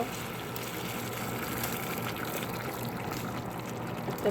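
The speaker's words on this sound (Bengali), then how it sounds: "এখন আমি গরম পানি দিয়ে দিব" Hot water is poured into a pot of braised duck meat, giving a steady gushing, pouring wash that runs evenly throughout, close and moderately loud with no talk.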